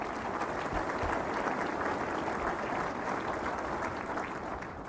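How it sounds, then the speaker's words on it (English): Sustained applause from a large audience at a state economy speech, dense and steady clapping filling the whole stretch without pause. "So let's give them another big round of applause."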